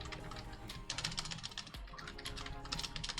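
Keystrokes on a computer keyboard, typed in quick irregular runs with a few heavier taps, close and fairly quiet with no speech over them.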